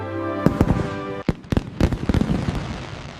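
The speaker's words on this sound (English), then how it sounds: "I love the fireworks." A summer night's fireworks display with a rapid series of loud, sharp bangs and crackles close by, one burst after another, without any voices.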